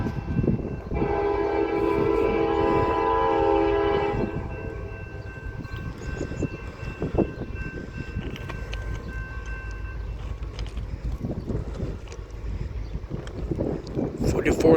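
CSX freight train passing at Lima, Ohio, its horn blaring loudly for several seconds before giving way to the rumble and clatter of cars rolling by, with wind noise throughout.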